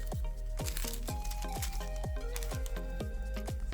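Small scissor snips cutting a section of Halo Create nail foil, a steady run of crisp little cuts repeating about twice a second, close and clear over quiet background music.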